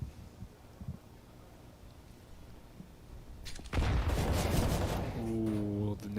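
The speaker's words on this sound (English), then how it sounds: "the nade with the spam, but it's all a bait for the AWP" Grenade blast followed by a burst of gunfire in a Counter-Strike pro match, FURIA vs fnatic at ESL Pro League Season 17 playoffs; a loud wideband explosion hits midway and sustained shots and metallic rings trail it, with faint background before.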